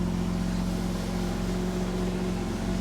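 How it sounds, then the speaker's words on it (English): A Porsche Boxster S with twin exhausts idles in a steady, loud, low engine drone with strong hum tones, running continuously at close range, with no talking. "Have a look at the twin exhaust guys. They're loud, but they're not too loud."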